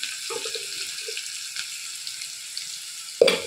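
Turmeric tossed into well-heated oil for a tomato and drumstick curry sizzles with a steady bright hiss, with a few soft low bumps early on and a sharp utensil clack near the end.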